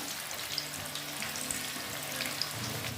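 Boiled potatoes fry briefly in oil for a chicken biryani, making a faint, even sizzling hiss with a few small pops over three seconds.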